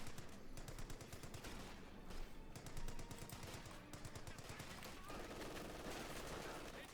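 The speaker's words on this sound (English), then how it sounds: "Machine gun team there arrives to save the day in the centre." Machine gun team firing in a Company of Heroes 2 battle, a dense continuous rattle of rapid bursts with scattered gunfire and battle noise, loud and close throughout.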